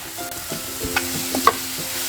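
Onion, spring onion and green chillies sauté in a pan over low gas for a Marathi-style cashew prawn masala, a steady close sizzle with scattered spatula scrapes and clinks against the pan throughout, no talk.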